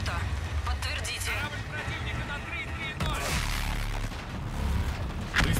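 Warship guns firing artillery in the video game Call of Duty Infinite Warfare, heavy booming blasts and rumbling explosions layered with battle noise and music, with a voice talking over the action.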